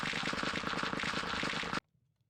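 Rapid auto-clicker sifting gravel with a shovel in a video game, a dense fast stream of clicks running without a break, loud and steady, then stopping abruptly into near silence.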